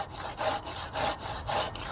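A coarse-toothed Japanese handsaw cuts through wood in a garden, giving close, rhythmic rasping strokes, about four back-and-forth passes with brief breaks between them.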